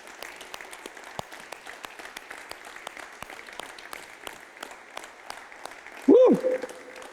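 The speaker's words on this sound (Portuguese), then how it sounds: "Dá uma salva de palmas para Jesus." A Sunday church congregation claps for Jesus in a light, scattered, fairly quiet patter of applause. Near the end there is a louder burst with a sliding, whooping vocal sound.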